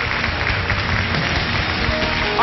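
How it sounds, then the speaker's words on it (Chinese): A studio audience applauds on a Chinese televised job-recruitment show, a steady, dense wash of clapping that stays loud and even throughout, with no voices on top. "掌声送给二位。"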